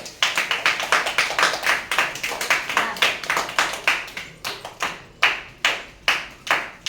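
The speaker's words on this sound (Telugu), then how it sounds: "చప్పట్లు కొట్టవా?" Hands clap in a steady series of sharp, close claps, fast at first and then slowing and spreading out, with no talk over them.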